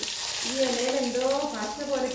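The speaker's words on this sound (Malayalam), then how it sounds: "വെളിച്ചെണ്ണയിലാണ് കടുക് താളിക്കുന്നത്" Mustard seeds crackle and sizzle in hot coconut oil, a steady close frying hiss with light popping, while a tonal voice-like hum runs faintly beneath.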